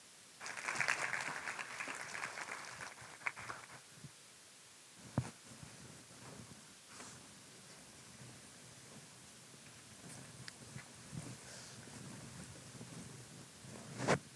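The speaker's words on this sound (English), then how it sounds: "Please give him a round of applause." Faint, distant audience applause, a soft patter of clapping that rises briefly and then thins out to scattered claps.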